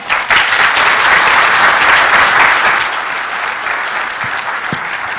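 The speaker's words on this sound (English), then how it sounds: "So give a warm round of applause to Simple Nomad." A crowd at a ShmooCon 2008 hacker conference session gives loud, dense applause that peaks early, then thins and fades slightly toward the end, with a couple of isolated claps at the tail.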